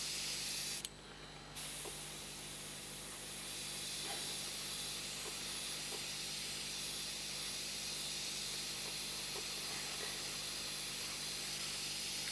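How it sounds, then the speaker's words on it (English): Aerosol spray paint hisses steadily onto a Bandai Star Wars Y-Wing model kit, a broad continuous close spray after a brief louder burst at the start, with faint clicks underneath. "I don't want to spray it on too heavy."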